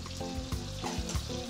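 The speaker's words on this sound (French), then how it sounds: "On mélange l'huile de palme à l'ail." Garlic paste sizzles in hot palm oil, a steady close crackle with a few spoon scrapes and stirs across the short stretch.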